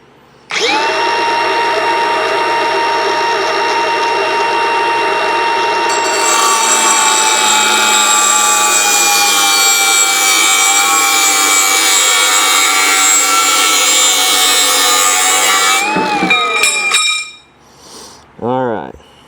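A Milwaukee cordless power tool cuts through metal in one long, loud, steady run with a whining harmonic tone that shifts pitch midway, then winds down and stops, followed by a couple of brief clanks.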